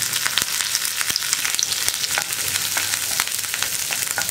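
Chopped onions sautéing in oil in a pan for a curry, a steady close sizzle with frequent clicks and scrapes of stirring throughout, no voices.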